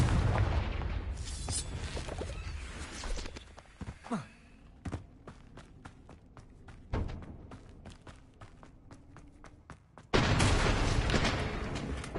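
Confringo, an explosive fire spell in the Hogwarts Legacy video game, goes off as a series of loud booming blasts with crackling impacts, followed by sharp clicks and a final heavy roaring burst.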